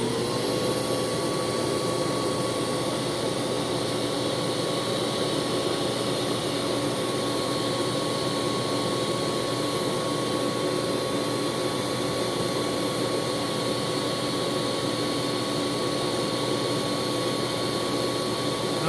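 A Shark Apex AX952 vacuum cleaner runs with its hose attached, giving a constant steady whooshing roar with a high whine that holds level throughout at moderate loudness.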